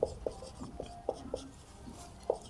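Pen writing on paper during a class 12 maths lesson, with a series of short, soft scratching strokes and taps at irregular intervals, close and quiet.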